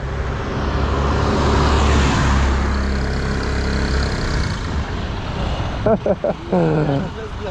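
A Suzuki Address V125 scooter revs up at a race start, a loud, close engine drone that builds and holds. Someone speaks over it near the end.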